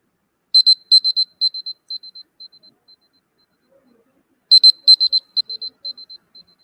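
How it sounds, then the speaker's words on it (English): An electronic buzzer at a panel event gives two bursts of rapid, high-pitched beeps. Each burst starts with a few strong pulses, then fades through quicker, softer ones, with a short silence between the bursts. "immediately after the 13th minute ends, I'll sound a buzzer. The buzzer will be something like this."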